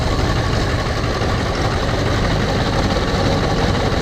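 The engine of a rebuilt truck, wrecked in a rollover, runs steadily just after starting, a loud, close, rumbling idle that holds constant throughout with no talk.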